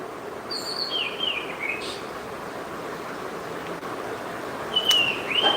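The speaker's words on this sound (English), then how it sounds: "Look at the beautiful birds chirping." Birds giving a few thin sweeping whistled chirps, one early pair and another near the end, over a constant hissy outdoor background with no one talking.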